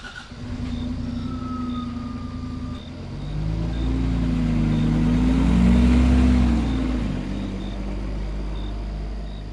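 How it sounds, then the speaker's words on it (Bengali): Taxi engine effect in an audio drama, a car engine rumbling and revving up as it drives off, growing louder and deeper, with a faint tone and a few soft beeps early on. "গাড়িটা সশব্দে গ্রামের দিকে এগিয়ে চলে।"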